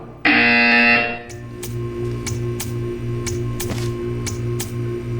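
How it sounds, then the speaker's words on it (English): A loud, harsh electronic buzzer blares for about a second in the Portal 2 video game, followed by a steady mechanical hum with repeated sharp ticking clicks. "You will hear a buzzer."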